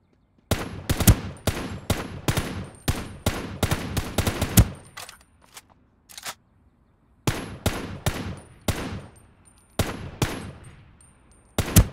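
Bursts of automatic gunfire in Ring of Elysium, loud close rapid shots in several volleys separated by short pauses, with a few scattered single shots between bursts and no talk.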